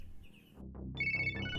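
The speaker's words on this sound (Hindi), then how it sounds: "कहीं तो सुना हुआ है ये रिंगटोन मैंने।" A mobile phone ringtone chimes in bright, tinny electronic tones, starting faintly and then growing fuller after a short pause, with a few soft knocks underneath.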